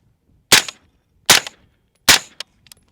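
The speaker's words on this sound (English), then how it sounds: "now you can shoot suppressed. So I'm going to shoot a couple semi-auto." Three evenly spaced suppressed shots from a PSA Sabre 18 rifle fired semi-auto, each a sharp loud crack with a short decay, followed by a couple of faint clicks.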